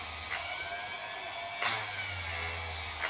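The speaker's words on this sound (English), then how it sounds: "it's starting to grind some of the plastic away" An Ozito rotary tool grinds away the plastic casing of an action camera, giving a steady high-pitched whine with a rough grinding texture and brief surges as the bit touches the plastic.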